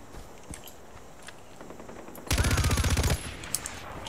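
A light machine gun fires in the video game Far Cry 4, one rapid burst of about a dozen loud evenly spaced shots lasting under a second, followed by a few scattered clicks and shots against quiet background ambience.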